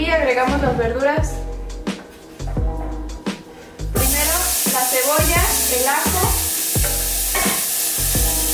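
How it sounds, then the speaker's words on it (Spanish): Vegetables sauté in olive oil in a pan with a steady, loud sizzle and intermittent stirring clatter, while a person talks over the cooking throughout. "Ahora vamos a poner a sofreír las verduras con un poco de aceite de oliva."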